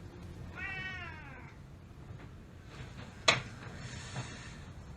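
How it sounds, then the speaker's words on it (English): A cat in an apartment gives one drawn-out, wavering meow, fairly quiet and close, followed by a sharp click and soft rustling with no voices. "Be careful with that cat."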